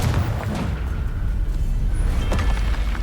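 Confringo explosion spell cast in the video game Hogwarts Legacy, deep booming blasts layered over a dense low rumble of game combat, loud and continuous with a sharp crack near the end.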